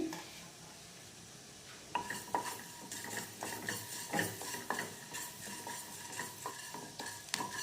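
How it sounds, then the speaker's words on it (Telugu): Fenugreek seeds frying in a pan with oil, stirred steadily with a metal spoon, giving a soft sizzle under repeated scraping clinks, close and alone with no talk. "ఒక హాఫ్ టీ స్పూన్ మెంతులు వేసి లైట్గా దోరగా ఫ్రై చేసుకోవాలి"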